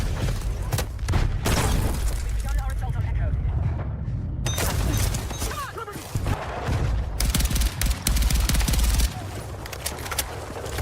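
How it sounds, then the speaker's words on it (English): Dense video game combat, with rapid gunfire and repeated booming explosions, continuous and loud with almost no pause and a voice talking over it. "There's a million explosions, a million bullets."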